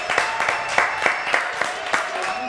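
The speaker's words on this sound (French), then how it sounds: "Tyron, applaudissements pour le GPP." Applause from an audience with rapid clapping and distinct louder claps standing out, steady and moderately near, no voices over it.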